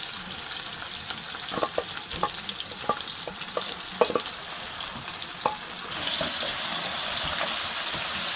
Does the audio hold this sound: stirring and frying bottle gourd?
yes